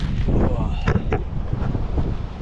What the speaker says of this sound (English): So I'm at this boat ramp. It's pretty windy.